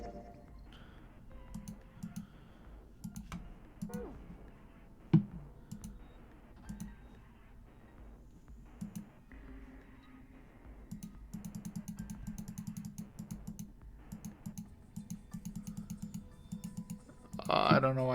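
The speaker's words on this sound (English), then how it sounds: "I don't know why I'm clicking." Rapid clicks and taps from a mouse and keyboard while someone plays the Zero Escape: Nine Hours, Nine Persons, Nine Doors puzzle game, scattered in bursts over a low background, with a louder cluster of clicks near the end.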